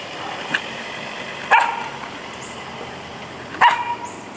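A Bangkaew dog barks in two sharp, loud bursts a couple of seconds apart, with a faint yip before them, against a quiet background with no talking.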